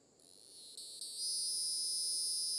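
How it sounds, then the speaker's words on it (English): A loud, steady high-pitched annual cicada buzz swells in stages, then holds as a dense, continuous drone. "This is the kind of annual cicada you'd hear around this time of year."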